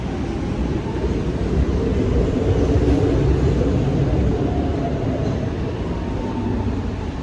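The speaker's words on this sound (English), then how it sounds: "We just got off of the Blue Line, Market Frankfurt train, off of 2nd Street stop." Market-Frankford Line train at the 2nd Street stop in Philadelphia, a steady low rumble and roar of the rail car running continuously and fairly loud, with no talking.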